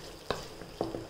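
Frying onions with curry leaves and green chilli are stirred together with ginger garlic paste, giving a soft sizzle bed and two distinct scraping knocks of the spoon against the pan, close and quiet.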